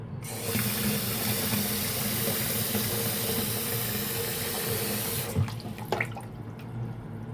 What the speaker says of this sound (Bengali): আমি ঠান্ডা পানি মিক্স করে দেখব।